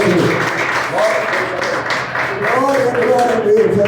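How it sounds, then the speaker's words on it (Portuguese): A church congregation applauds together in a steady crowd of clapping, with voices carrying over it throughout. "E uma salva de palmas ao Senhor"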